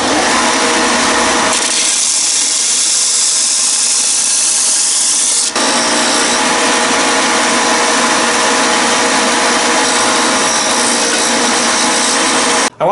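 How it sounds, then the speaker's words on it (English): A power tool trims the edges off soft lead lofting weights, producing a loud, continuous grinding whine that shifts in tone partway through. "So being that lead is a pretty soft metal, I can just trim off the edges here rather than just sand it all down."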